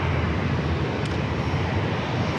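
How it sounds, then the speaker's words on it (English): A Southwest Airlines Boeing 737-700 jet at San Diego airport produces a steady, broad roar that holds loud and even throughout, with no voices. "Southwest Airlines Flight 781 heading to San Jose, California, 737-700. Ready to go."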